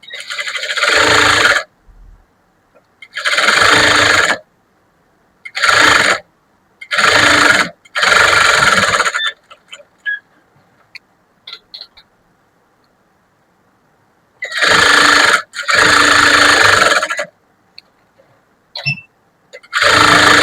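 Sewing machine stitching along a blouse lining, several separate bursts of whirring motor and needle running for a second or two each, stopping and restarting, with near-silence between runs.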